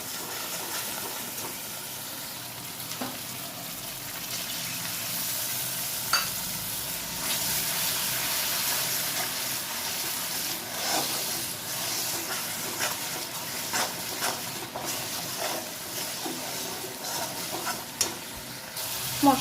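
A ground paste of sugar, salt, turmeric, mustard, poppy seed and green chilli frying in a pan for potol dolma: a steady, close sizzle with the scrape of stirring.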